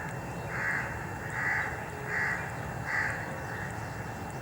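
Crows cawing on a Sunday morning in Pakistan, with four or five evenly spaced harsh caws over quiet background hum at moderate distance, no voices.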